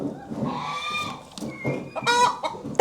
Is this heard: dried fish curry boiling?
no